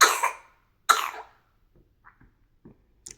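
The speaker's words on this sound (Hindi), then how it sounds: "खांसी बहुत हो गई है। खांसी बहुत है, पूरी रात खांसी है" Two sharp, hoarse coughs close by, about a second apart, followed by quiet breaths and small throat sounds.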